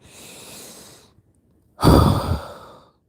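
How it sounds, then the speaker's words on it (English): A person takes a slow audible breath in, then after a pause lets out a loud, close breathy exhale like a sigh, with no talking. "Let's take a deep breath in."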